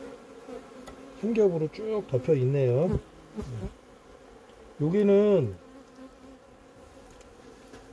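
Honeybees buzz at an overwintering hive in late October while the colony is reduced and checked. Loud, close buzzing rises and falls in short bursts, with quieter gaps between.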